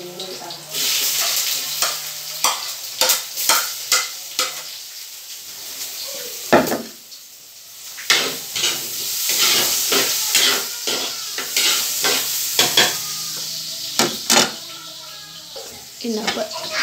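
Garlic sizzling and hissing in hot oil in a pan, with repeated stirring clatter and spoon scrapes against the pan, while a person talks over the cooking.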